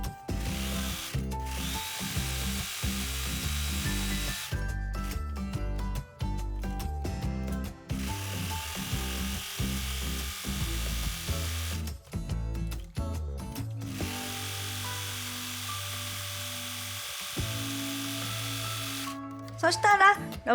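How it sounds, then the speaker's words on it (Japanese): An overlock serger sewing machine runs in bursts, stitching the edges of apron fabric with a rapid mechanical whir and pauses between seams, under a quiet voice. "ポケット口以外この字でロックミシンをかけておきましょう"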